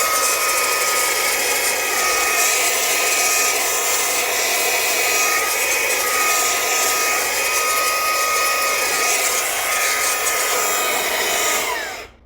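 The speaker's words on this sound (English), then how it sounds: "So let's see if we can blow out some dust there." A Fanttik B8 ACE brushless mini blower runs steadily, blasting dust out with a loud, high, even whine that holds for about twelve seconds before cutting off at the end.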